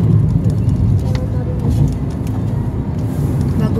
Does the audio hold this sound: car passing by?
yes